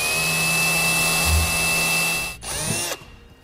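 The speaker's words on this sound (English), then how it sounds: "Now we'll line it up with our first hole and then we'll begin to drill." A power drill whines loudly and steadily up close, drilling holes in the roof of a 2014 Honda Odyssey, then winds down and stops with a short mechanical rattle near the end.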